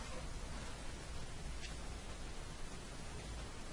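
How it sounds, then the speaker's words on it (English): Cold April rain falls steadily outside a county commissioners meeting room, a dense, even hiss that stays constant and fairly loud from start to finish with no talk over it. "It's still raining, isn't it?"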